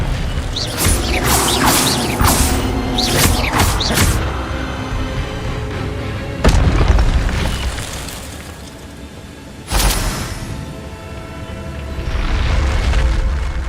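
Spell effects from the Hogwarts Legacy video game, fire and disarming casts, come as sharp whooshing bursts and booming impacts in quick clusters, then separate loud hits several seconds apart over a rumbling game backdrop.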